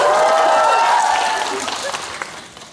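An audience at a CGV Yeongdeungpo cinema live event applauds and cheers, starting loud with a voice over the crowd, then fading into scattered clapping.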